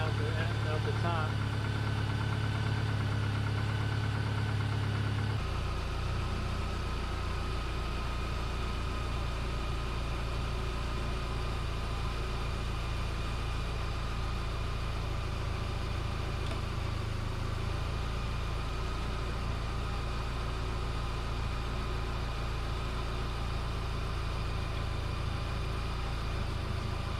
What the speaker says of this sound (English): Set the idle a bit higher.